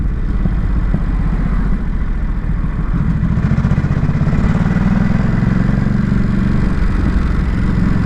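Ducati SuperSport 950 S twin-cylinder engine running at low revs in sport mode, a loud, steady rumbling exhaust with sharp crackling pops, heard close from the rider's position.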